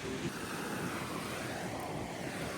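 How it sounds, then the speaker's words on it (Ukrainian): Wind blowing at a beach on Zanzibar, a faint steady rush of gusting air with soft surf-like noise throughout. "чи вам чути, тут так вітряно"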